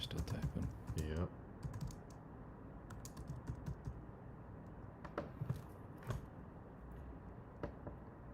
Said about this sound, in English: you're still typing